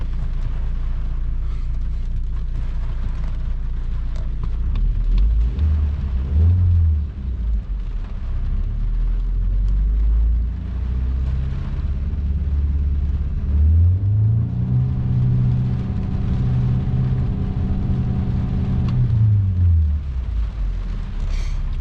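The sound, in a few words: MK5 VW Golf engine revving against the rev limiter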